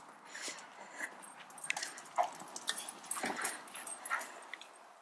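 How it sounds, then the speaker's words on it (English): A dog whimpers and yips in short, high, repeated whines, fairly close, over a low background hum. "Gotta go wrangle the dog."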